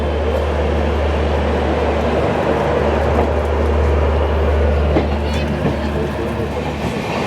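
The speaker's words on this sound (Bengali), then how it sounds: "আমাদের ট্রেন ছেড়ে বেরাচ্ছে কলকাতা চিতপুর স্টেশন।" The Tebhaga Express, an LHB-coach train, pulls out of Kolkata Chitpur station with a loud, continuous rumble and a low engine drone. Faint wheel clatter comes through, and a voice is heard briefly under the noise.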